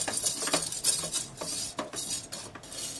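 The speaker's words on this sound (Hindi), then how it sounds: "अब मैं इसमें डालूंगी खड़ा धनिया। इसे हम 2 मिनट तक लो फ्लेम पे अच्छे से भून लेंगे।" A utensil scrapes and taps against a pan as whole coriander seeds are roasted over a low flame, producing repeated close metallic strokes in an uneven rhythm, with no talking.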